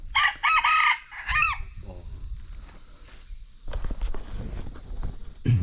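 Chickens in a rural Thai setting, with a rooster crowing loudly and close in several drawn-out calls, then softer clucks, rustling and footsteps.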